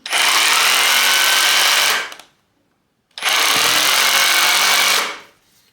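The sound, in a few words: cordless hammer drill hammer drilling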